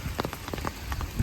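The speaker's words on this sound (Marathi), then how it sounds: "पाऊस कमी होऊ द्या" Rain falls near a waterfall in the Sahyadri hills, pattering steadily on surfaces as a soft, close shower of scattered drops with no voices.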